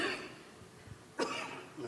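A single sharp cough bursts out midway through a quiet stretch, with faint low murmuring before it and a softer noise just after.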